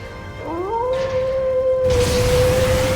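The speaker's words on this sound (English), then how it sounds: "Oh, I hear a howl of a wolf." Wolf howl from the video game The Legend of Heroes: Trails into Reverie, a single long, clear rising then sustained tone, loud and alone, with ambient game sound swelling in behind it.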